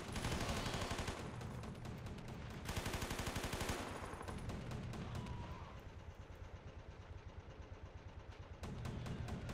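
Sustained bursts of machine gun fire in the Blue Dawn mod battle, dense rapid rattling with heavy thuds and explosions, continuous and loud throughout with brief lulls between volleys.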